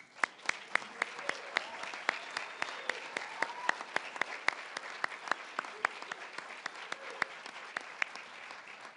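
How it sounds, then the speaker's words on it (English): An audience at a firefighter academy graduation applauds steadily for several seconds, sharp individual claps standing out against a dense wash of clapping. "please join us in another round of applause for our newest firefighters"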